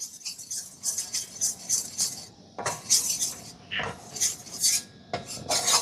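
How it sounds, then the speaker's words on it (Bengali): A spatula scrapes and clinks against a pan as gram flour is stirred in ghee over low flame, in repeated bursts of metallic scraping with brief pauses between strokes. "ঘিয়ের সাথে বেসনটাকে অনবরত এভাবে নাড়তে হবে, নাড়া বন্ধ করলে চলবে না"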